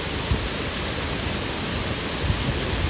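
Dokmoka waterfall near Bhelughat in Karbi Anglong, water dropping from a height onto big rocks, a steady, dense, close roar of broadband rushing with no letup.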